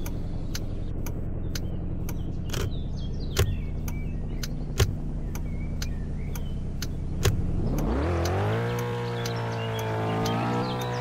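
In the Roblox video game, a car idles with a steady engine hum and a regular ticking, then its engine revs up and climbs in pitch as it drives off.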